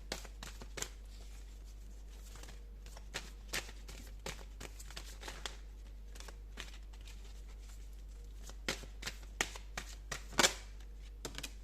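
Tarot cards being shuffled and flipped over by hand, light scattered papery flicks and taps at close range, soft and intermittent against a low steady hum.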